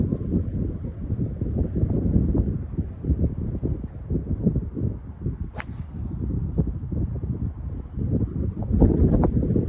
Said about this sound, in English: A little bit of wind into the face.